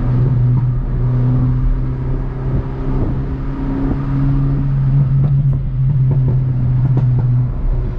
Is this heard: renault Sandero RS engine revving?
yes